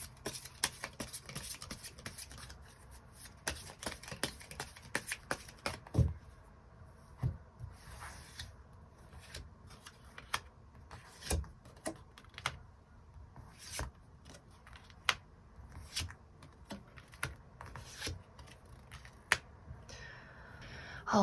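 Tarot cards are shuffled close by with soft papery riffles, rubs and sharp card snaps scattered across a quiet background, with no one talking.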